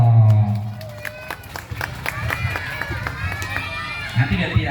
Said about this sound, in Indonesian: Boleh duduk, tepuk tangan dong.